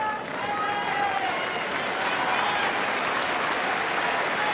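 Crowd on Wimbledon's centre court applauds during a 1999 quarter-final women's tennis match, a dense, steady wash of clapping from a large audience that fills the whole stretch, loud and sustained.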